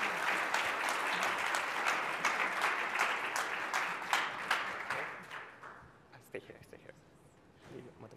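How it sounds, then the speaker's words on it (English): Audience applause at a conference talk on game launches, loud sustained clapping that tapers off into scattered claps, with voices speaking over it. "Let's give them a round of applause."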